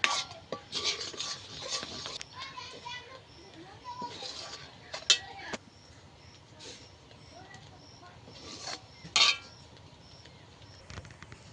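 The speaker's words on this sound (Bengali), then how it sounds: "অনবরত নেড়ে যেতে হবে, নইলে কিন্তু তাল ধরে যেতে পারে" A utensil stirs palm pulp mixed with sugar in a wok, with scraping and sharp metallic clinks at irregular moments, close and fairly quiet, and a voice speaks at times.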